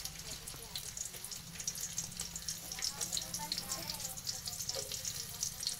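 Chopped onions go into hot oil in a pan while children cook khichdi, giving a dense, continuous crackling sizzle with stirring scrapes, and voices chatter underneath.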